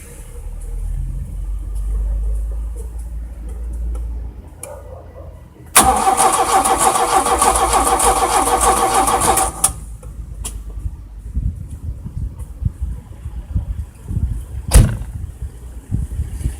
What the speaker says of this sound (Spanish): cuando uno le da arranque